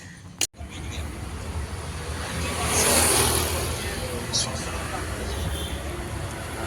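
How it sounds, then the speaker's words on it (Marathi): A vehicle engine approaches and idles near a gate on a city street, a moderate rumbling hum swelling then holding steady, with a sharp knock at the start and faint traffic around. "रिक्षा येते बघा बाहेर येऊन थांबले गेटच्या बाहेर येऊन थांबले"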